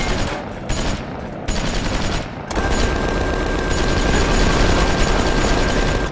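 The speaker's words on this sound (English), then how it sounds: "Rocket launcher." A rocket launcher fires in the video game Tales from the Borderlands: loud, dense sustained roaring blasts fill the clip, broken by short gaps early on before settling into a continuous rumbling barrage.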